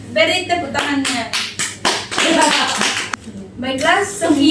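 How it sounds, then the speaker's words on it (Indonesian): Children in a classroom clap their hands in bursts after a recitation lesson, the claps mixed with a teacher's voice and children speaking close by. "Beri tepuk tangannya."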